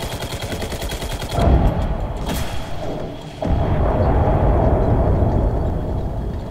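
Heavy gunfire in the war shooter Enlisted, with rapid machine-gun bursts and loud booming shots over a rumbling battlefield background, shifting in intensity and staying loud throughout.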